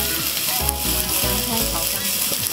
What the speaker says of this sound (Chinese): 洋葱炒香肠